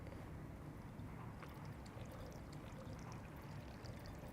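Preheated water pours steadily into the lower chamber of a vacuum siphon coffee brewer, filled to the 5 mark, a continuous close splashing rush with no talk.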